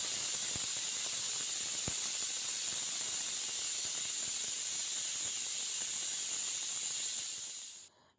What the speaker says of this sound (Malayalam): അപ്പോൾ കടലയൊക്കെ ഒന്ന് വിസിലടിക്കുന്നുണ്ട്.